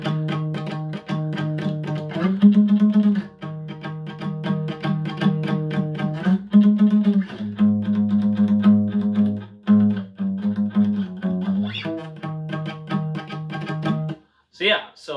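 Electric guitar playing the intro riff to a song, a loud, distorted riff of driving repeated low notes with chugging rhythmic accents, played steadily and close for about fourteen seconds before a brief pause and a short scrape at the end.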